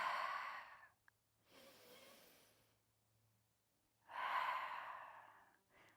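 Slow, deep breaths in a Pilates mat session focused on rib cage breathing: a long audible exhale, a softer inhale, then another strong airy exhale, close to the listener with quiet pauses between breaths.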